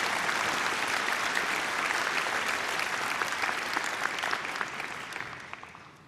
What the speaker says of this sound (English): Let's give all of the marshals from this afternoon a big round of applause for their help and participation